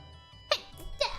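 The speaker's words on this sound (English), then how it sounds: "But I've sneezed." A person sneezing into a microphone, two quick close sharp bursts within about a second.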